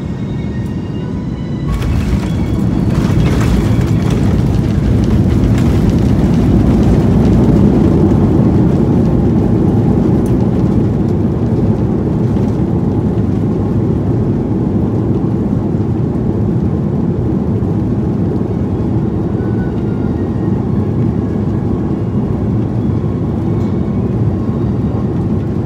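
An airliner landing in Singapore, heard from inside the cabin as a loud, steady low roar and rumble that swells after a quiet start and holds for the rest of the stretch, with no voices.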